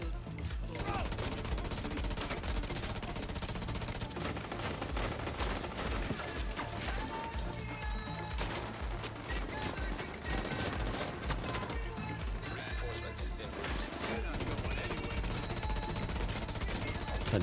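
Rapid sustained rifle fire in the shooter video game The Division 2, a dense continuous stream of shots over nearly twenty seconds, loud and unbroken, mixed with other game sounds.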